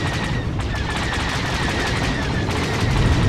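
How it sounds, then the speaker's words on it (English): In World of Warplanes, a missile strikes an enemy plane amid dense, continuous combat noise: a steady rattle of gunfire and engine roar with a brighter impact burst near the start and another toward the end. "My missile hit has scared him off."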